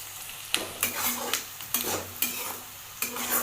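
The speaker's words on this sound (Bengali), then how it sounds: "এবার এটাকে ভালোভাবে ভাজবো।" Ginger and garlic fry in hot oil for a paneer dish, a steady close sizzle broken by several sharp spatula scrapes and stirs against the pan at a loose rhythm, with no voices.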